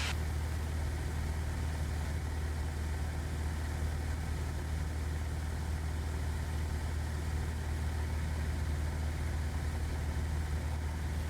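A light aircraft engine cruises at a mellow 2260 RPM setting, giving a steady, continuous low drone and broadband cabin roar throughout, with no voices.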